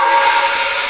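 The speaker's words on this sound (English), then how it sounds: "Here's the forward signal," A one-second steady toy train whistle tone from an MTH Premier model locomotive sounds the forward signal, clear and loud with no other sound.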